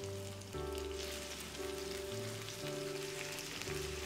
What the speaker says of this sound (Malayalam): ഈ വെളിച്ചെണ്ണയിൽ നമുക്കിതിനെ ഒന്ന് ഷാലോ ഫ്രൈ ചെയ്തെടുക്കണം.